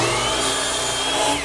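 A table saw cuts across the end of wooden leg blanks to square them, a loud close steady whine of the blade through the wood that tapers off at the finish.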